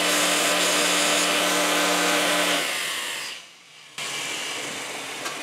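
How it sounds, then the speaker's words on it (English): Bench grinder flattening the ends of a stainless steel spring, a loud steady whine and rush of metal grinding that dips for a moment, then resumes at full strength, with no voices. "I'll take this over to the grinder, flatten out the ends on it."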